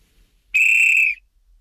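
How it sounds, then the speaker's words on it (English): A very loud whistle, muffled by a hearing protection device, sounds as a single clear, steady tone for about half a second against near silence. "what you actually heard was this whistle, but attenuated so that its output level would not be harmful to your ears"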